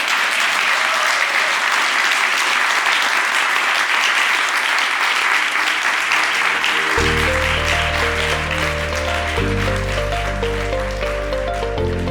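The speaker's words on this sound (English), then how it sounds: "Can we give them a huge round of applause, please?" Large audience applauding panelists at a Musicians' Union members' conference, a steady dense wash of clapping throughout; partway through, loud sustained music chords come in underneath the applause.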